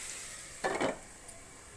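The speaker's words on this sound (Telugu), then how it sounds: "కాసేపు మూత పెట్టేద్దాం" A lid set onto a cooking pot with a short metallic clatter, then a faint tick as it settles, over a quiet background hiss.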